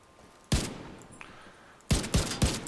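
A G36 rifle in The Division 2 fires a single sharp shot, then after a pause three more spaced reports follow in slow succession, loud and close with short echoing tails.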